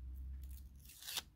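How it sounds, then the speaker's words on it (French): Backing film peeled off double-sided tape while assembling a small handmade pouch, a brief close crinkly tearing rasp building to a sharp peak near the end over a low steady background hum. "Le plus dur, c'est d'enlever le scotch, enfin, les opercules."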